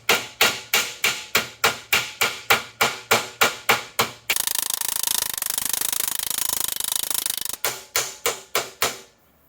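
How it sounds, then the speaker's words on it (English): A metal body-working hammer beats sheet metal for a Jeep YJ rock crawler fuel cell relocation in loud, rapid, evenly spaced ringing blows, broken by a stretch of harsh grinding-like noise before a final burst of strikes. "We actually have a set of proper body working hammers we got from Harbor Freight."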